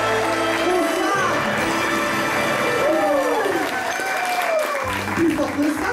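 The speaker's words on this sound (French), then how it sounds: "un tonnerre d'applaudissements pour Geneviève!" A show audience at a faïencerie applauds for Geneviève with sustained clapping and some cheering, while a voice speaks over the crowd.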